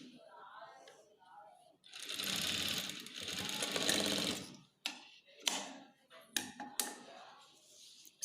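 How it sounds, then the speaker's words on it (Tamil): Sewing machine stitching a cloth face mask, running in a steady whirring burst of about three seconds, followed by short clicks and brief stitching bursts nearby, with no talking. "இந்த இடத்துல ஒரு ஸ்டிச் பண்ணிக்கோங்க"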